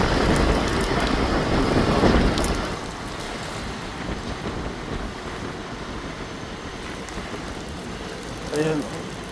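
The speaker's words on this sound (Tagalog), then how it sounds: "Guys, raining guys." Overnight rain falls in Dammam, Saudi Arabia, in strong wind near a construction site with a crane. A loud, steady wash of rain and gusting wind buffets the microphone, easing slightly partway through.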